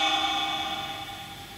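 A sustained tonal horn-like drone resembling a passing train, heard alone and moderately loud inside a house in Hull, fading slightly as it continues.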